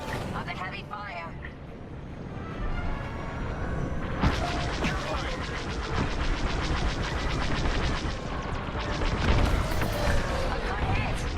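Heavy blaster fire and booming explosions fill a Star Wars Squadrons space battle, a dense, loud, continuous barrage with sharp bursts, running under radio voices.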